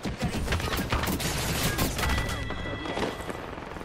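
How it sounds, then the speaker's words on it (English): Dense bursts of gunfire in Apex Legends, rapid overlapping shots and cracks at close range forming a loud, continuous barrage across the whole stretch, with no voices. "He's shooting at me."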